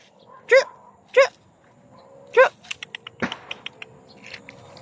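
A dog barks three times at a steady pace, loud and close, followed by a quick patter of lighter knocks and faint whimpers.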